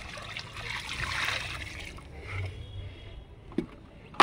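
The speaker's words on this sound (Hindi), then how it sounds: "ऊपर से मैं एक बाल्टी पानी डाल रही हूँ" Water poured from a bucket onto the soil of a grow bag, a soft, uneven splashing and trickling of moderate loudness that carries on for a few seconds and ends with a couple of sharp knocks.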